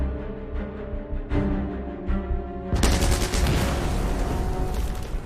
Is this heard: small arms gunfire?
yes